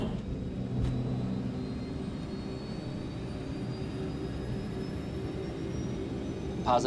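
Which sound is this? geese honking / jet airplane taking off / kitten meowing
jet airplane taking off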